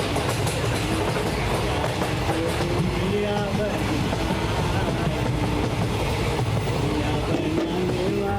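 A Harbour line local train rumbles steadily alongside a platform in Mumbai, its continuous wheel and engine noise filling the scene with faint station sounds mixed in.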